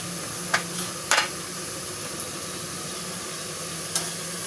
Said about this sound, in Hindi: अब इसमें शामिल करते हैं प्याज।